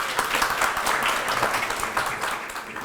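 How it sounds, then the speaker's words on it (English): A university talk audience claps in a steady, dense round of applause that fills the whole stretch without pause, loud and fairly close. "please give a warm round of applause for our guest speakers"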